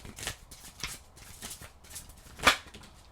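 Oracle cards being shuffled by hand: soft, papery riffles in a loose rhythm, ending with one sharper, crisper snap of the deck, close and fairly quiet.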